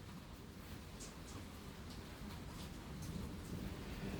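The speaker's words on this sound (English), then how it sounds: "It is lightning and thundering pretty bad out." A thunderstorm with steady rain, a constant broad hiss of falling water with faint rumbling underneath, heard alone and at low level.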